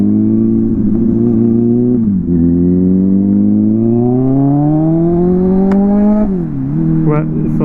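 Motorcycle with a broken exhaust and the baffle removed, revving loud and close, its pitch dipping and then climbing steadily before a drop and a fresh rise, with no voice over it.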